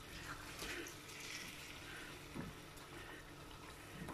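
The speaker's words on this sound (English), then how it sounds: "here's 1 cup of warm water that I've got from my kettle" Warm water from a kettle poured into a chicken curry, a faint continuous trickling splash close by, with a few soft knocks and some quiet speech underneath.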